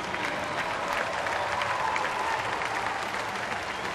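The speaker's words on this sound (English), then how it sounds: "Andrew McCutchen coming to the plate now to a nice round of applause" A baseball crowd at a Milwaukee at Pittsburgh game in August 2013 gives a steady, even round of applause as Andrew McCutchen comes to the plate, a dense wash of distant clapping and cheering.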